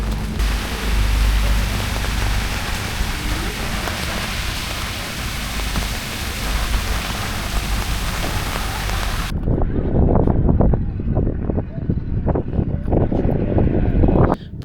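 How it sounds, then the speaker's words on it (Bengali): Strong wind sweeps a rainy Mandarmani seashore: a loud, steady roaring hiss for about nine seconds, then heavy, close low buffeting gusts batter the microphone to the end. No one speaks. "প্রচণ্ড হাওয়া, কালো মেঘ আর সমুদ্রের সেই অন্যরকম ভাইব"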